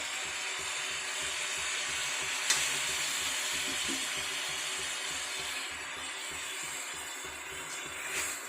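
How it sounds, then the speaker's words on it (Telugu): Tomatoes fry in a pan for a homemade tomato chutney, giving a soft, continuous sizzle with occasional light clicks and one brief knock. No voices are heard. "ఇలా ముద్దలాగా వేగిపోయింది, పచ్చివాసన రాదు టమాటా"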